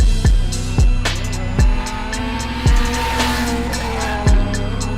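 A car drifts in a series of loud revving bursts, roughly one every second or two, with squealing, skidding tires between them and a constant engine drone underneath.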